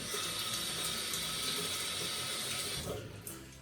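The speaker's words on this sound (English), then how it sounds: "Quick rinse with the hot water and it clears it really good." Hot water runs steadily from a bathroom tap to rinse a razor, a loud continuous hiss and splash that cuts off near the end.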